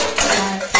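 Metal cooking pot and utensils clattering as the pot is handled to make Maggi noodles, a steady close scraping and clinking with a louder knock at the end, no talking.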